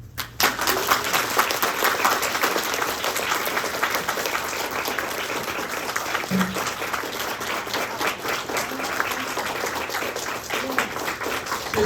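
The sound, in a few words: audience applause after the talk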